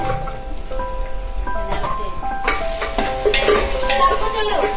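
Ginger-garlic paste, coriander and mint being stirred in a pan for vegetable pulao, soft sizzling under repeated scraping and clinking strokes, close by and moderately loud.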